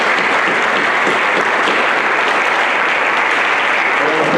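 Dense, steady applause from a large school assembly audience honoring veterans at a Veterans Day event, loud and continuous throughout with no pause.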